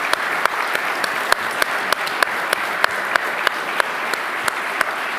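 Applause from a museum audience for panel speakers, a close, steady patter of many hands with distinct sharp individual claps popping out at regular moments over the full stretch.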